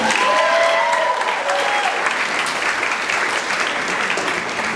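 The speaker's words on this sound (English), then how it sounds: "If you all give her a round of applause, that would be amazing." Audience applause for a man's wife: loud, steady clapping from a crowd that fills the whole stretch without pause.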